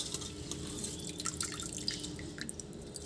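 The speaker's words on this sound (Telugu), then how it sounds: "5-6 కప్పుల నీళ్ళు పోస్తాను" Water poured from a vessel onto soaked rice and dal, a steady trickling splash with scattered drips, fairly faint and heard alone without talk.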